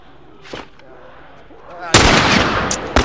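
Gunshots in The Last of Us video game: quiet ambience and a single earlier crack, then a loud close burst of shots erupting partway through, with another sharp report near the end.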